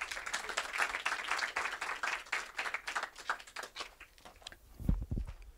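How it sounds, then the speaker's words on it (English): Audience at a business keynote gives a round of applause for John, a dense burst of many hands clapping steadily throughout, fading slightly near the end with a few thumps of movement. "Just give John a round of applause."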